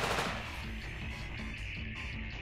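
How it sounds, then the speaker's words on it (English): Rapid gunfire from the video game War of the Human Tanks rattles continuously for a few seconds, dense and fairly loud, with repeated shots running together. "They're just shooting random areas now."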